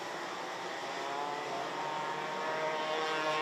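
A race car on the track at Genk during a BNL round, its unbaffled exhaust giving a steady, loud engine drone that swells slightly as it nears, with no talking.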